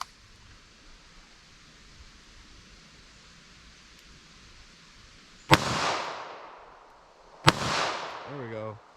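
Two loud revolver shots of .38 Special lead semi-wadcutter ammunition, each a sharp crack with a ringing outdoor decay, spaced about two seconds apart after a quiet stretch.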